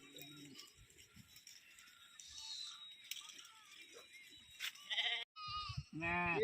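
Sheep bleat in a farm field in several harmonic calls, clearest and loudest near the end, with someone talking nearby and some rattling movement underneath.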